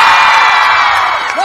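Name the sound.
New Year's Eve concert crowd applauding and screaming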